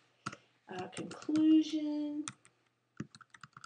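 Computer keyboard typing, with soft scattered key clicks under a nearby speaking voice and a short quick burst of taps once the talk stops.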